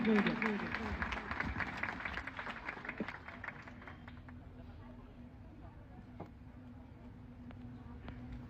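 Audience applause for Shivaji Maharaj at a Shivrajyabhishek coronation celebration at Shri Shivaji College, Akot: loud clapping in the first few seconds thins into scattered claps over crowd murmur.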